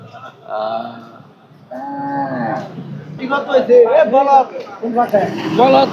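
Cattle lowing and mooing at a busy livestock market in Amaraid haat, Gazipur, with several drawn-out moos rising in loudness amid nearby voices and market chatter.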